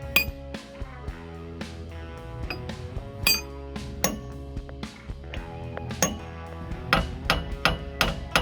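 A hammer strikes metal on both sides of the axle end of a 1970s retro RV camper. It rings out in a dozen or so sharp, clanging blows at an irregular pace, close and loud.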